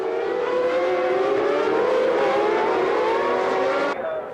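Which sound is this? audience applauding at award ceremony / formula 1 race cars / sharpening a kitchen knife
formula 1 race cars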